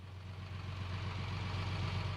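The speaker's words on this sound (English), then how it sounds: "Sometimes the peace of the countryside is disturbed by the sounds of cranes and heavy lorries bringing work back from the foundry or from exhibitions abroad." A heavy lorry carrying crated bronze sculptures back from the foundry to a countryside estate, its engine rumbling in a low steady idle, moderately distant and unbroken.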